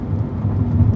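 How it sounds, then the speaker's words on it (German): Steady rain drums on a 2019 Subaru Impreza 2.0i Sport during a motorway drive, a dense, continuous low patter blended with road rumble, with no talking. "Es regnet gerade ein bisschen weniger."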